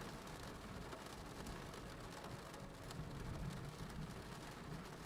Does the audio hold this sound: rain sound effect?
yes